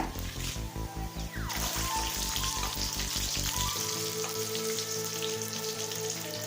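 Chillies, garlic and curry leaves sautéing in hot oil for milagai killi sambar, a continuous crackling sizzle close by over rhythmic low tones that shift midway, with no speech.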